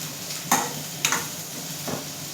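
Half-softened onions sauté in a pan for a brinjal palya, a low steady sizzle broken by three distinct scrapes of a spoon stirring through them.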